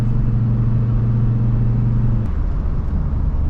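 A Volvo XC70 engine drones loudly from inside the car while driving, a steady low rumble that drops in pitch partway through as a gear change goes in smoothly, then settles again.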